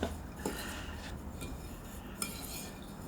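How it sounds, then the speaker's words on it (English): A fork scrapes and rubs steadily against a bowl while mixing dry oat-and-raisin cookie ingredients, with soft clinks against the rim standing out from a continuous low scratching. "I'm just going to mix them together with a fork"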